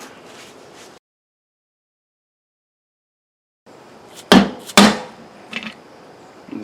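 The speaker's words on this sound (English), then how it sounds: "it doesn't quite just drop in, so we need to tap it in" A part being tapped into a Borg Warner 1305/1339 Quadratrac transfer case, two sharp close hammer knocks followed by a lighter tap, with quiet background around them.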